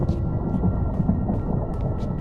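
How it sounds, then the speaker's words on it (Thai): Thunder and rain in a Minecraft world, a continuous low rolling rumble under steady rainfall with a few brief sharper crackles on top, no speech. "แต่ฟ้าที่นี่ก็ขยันร้องเลยเนาะ ฝนตกทีแบบก็ควรจะแบบตกลินนอะไรเงี้ย"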